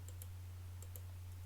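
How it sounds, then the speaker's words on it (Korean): Two quick pairs of light computer mouse clicks while working in Photoshop, faint and close, over a steady low electrical hum. "클릭을 합니다"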